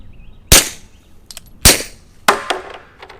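Three suppressed .45 pistol shots through an OSS RAD 45 suppressor crack out at an outdoor range, each a sharp close report with a brief tail, spaced roughly a second apart, with small clanks between.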